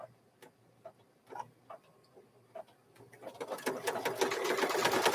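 A domestic sewing machine stitches fabric for a mug rug, starting with a few sparse taps and clicks, then settling into a rapid, loud, continuous mechanical rattle that builds toward the end.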